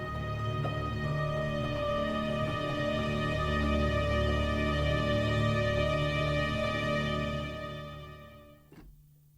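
Lush sampled orchestral strings from the Arkhis library hold a sustained chord that swells as two extra layers join, then fade away near the end.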